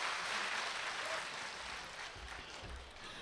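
A crowd at a Ramkatha religious discourse gathering claps together, a soft, distant, steady patter of applause that gradually thins out, with no talk over it.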